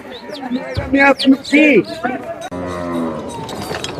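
Cattle moo loudly and close by at a busy Qurbani cattle market at Hazratpur, with several drawn-out calls in a row over a background murmur of people talking.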